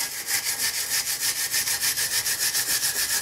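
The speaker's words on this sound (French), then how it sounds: "je vais quand même prendre ma brosse métallique et j'ai quand même nettoyé le pourtour qu'il y a ici" A wire brush scrubs the rim of a front brake disc on a 2009 Suzuki Alto petrol car in fast, rhythmic rasping back-and-forth strokes, about six per second, close and steady.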